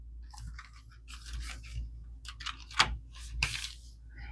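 Brown paper lunch bag junk journal being handled, with scattered crinkly rustles and crackles in short bursts, a sharper crunch near the middle and another toward the end, close up and fairly quiet.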